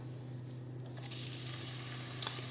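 Chopped onion frying in hot oil in a pan while making shrimp spaghetti. A steady, soft sizzle hisses over a low kitchen hum, with a faint clink near the end.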